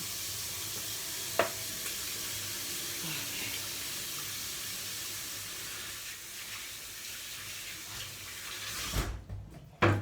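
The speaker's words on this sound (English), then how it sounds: "I'm going to wash my hands because I don't like the feeling of egg on it" Tap water runs steadily into a home sink while hands are washed clean of egg, a soft continuous hiss with a few small knocks, ending in clattering handling sounds.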